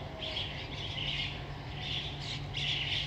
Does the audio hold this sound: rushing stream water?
no